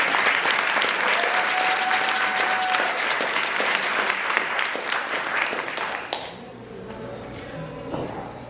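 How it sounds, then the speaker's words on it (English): Another round of applause from a birthday celebration audience, dense steady clapping that stops abruptly after about six seconds, leaving quiet room sound and a few stray claps. "Can we please get another round of applause for Alvan?"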